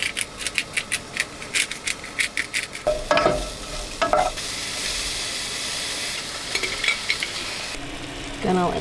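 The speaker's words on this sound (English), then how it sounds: "Gonna let that sizzle for a little bit." Dinner sizzles in a pan on a camper van stove, with a run of rhythmic stirring scrapes at first, then a steady frying hiss with occasional utensil clinks.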